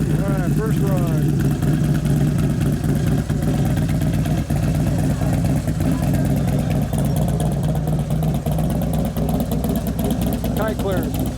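A 2011 Harley-Davidson Road Glide twin cam being ridden, its engine a steady, loud low rumble with wind noise throughout, a voice talking over it.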